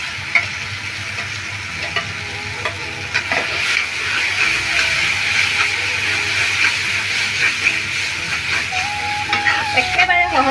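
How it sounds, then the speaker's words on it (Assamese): Food fries in a pan with a loud, steady sizzle and stirring close by across the whole stretch. A brief clink comes near the end, and no speech stands out. "এয়া অকণমান সময় এনেকৈ ভাজিছোঁ"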